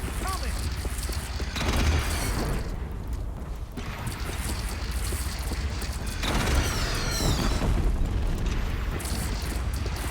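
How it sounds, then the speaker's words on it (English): Heavy, sustained barrage from the Deathbringer gun in Horizon Zero Dawn, rumbling booms and crackling blasts layered over a dense battle din, swelling at two points with voices calling out over the combat. "Deathbringer fire incoming!"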